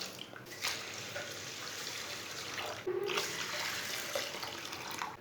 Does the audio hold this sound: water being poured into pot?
yes